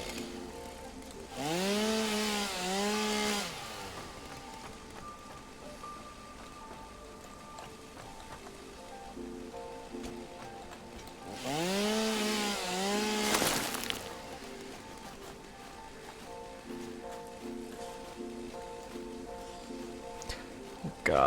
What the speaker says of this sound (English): let's just see if we can chainsaw some of this stuff down